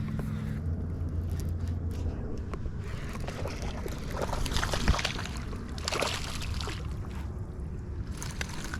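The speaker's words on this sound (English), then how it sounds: "I'm totally paddling this canoe backwards" A canoe paddle dips and sloshes in pond water, quiet and close, over a low wind rumble and faint ambient noise.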